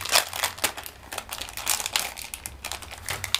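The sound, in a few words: crinkling plastic packaging being opened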